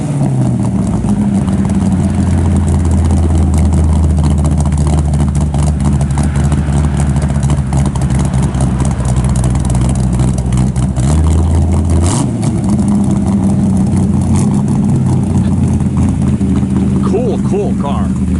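A 1956 Chevrolet 210 with a cam idles loudly from the exhaust in a steady, lumpy low rumble. It rises into a brief rev near the middle, then settles back to idle.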